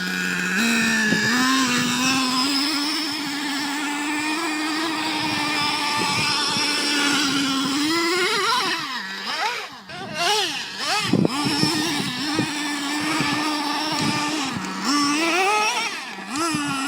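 A Traxxas Revo RC car engine drones and whines loudly and steadily, its pitch wavering as it revs up and down in surges through the middle, with occasional faint voices beneath.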